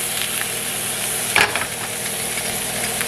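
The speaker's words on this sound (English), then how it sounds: "So you see how that just started frying in there?" Oil frying in a hot pan as a ribeye steak cooks, a steady close sizzle with a brief louder crackling burst midway, no talking.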